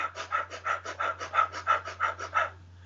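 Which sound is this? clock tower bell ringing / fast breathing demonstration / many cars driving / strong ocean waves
fast breathing demonstration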